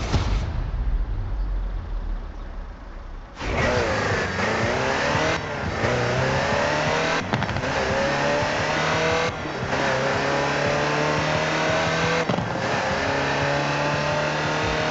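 A Land Rover Type 3 engine in Forza Horizon 4: a quieter idle at first, then a loud, steady drive with repeated revs rising and dropping through gear changes.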